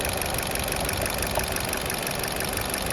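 A Vauxhall Mokka engine idles with a steady, dense mechanical hum and faint ticking, close by and continuous with no voices.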